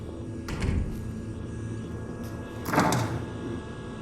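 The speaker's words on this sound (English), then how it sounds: "don't close the door behind me" A door in the Dead Secret video game slides and thuds shut in two heavy movements with a low rumble, moderately loud against a quiet hum, no talking.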